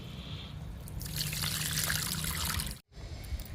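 Liquid fertilizer poured onto a potted garden plant, a soft trickling splash that builds and runs steadily for a couple of seconds, stops abruptly, then leaves a faint drip and rustle; no talk.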